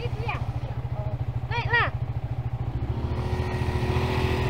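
Motorcycle engine idling with a fast steady putter, then revving up and pulling away as the rider accelerates onto a slight uphill on a road near Lake Toba, close and loud, with brief speech over it.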